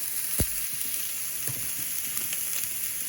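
Chopped onion sizzles steadily in a hot pan on a fast-heating burner for shepherd's pie, a bright continuous hiss with a sharp clack as pieces go in early and a few light scrapes after; no one talks.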